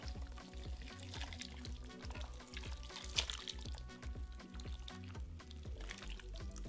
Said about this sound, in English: Pour all your ingredients into your slow cooker.